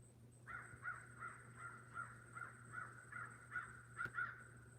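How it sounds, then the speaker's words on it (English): A crow caws outdoors in a steady series of about ten evenly spaced, moderately distant calls over a constant low background hum, with no talking. "Crow always shows up when there's drama."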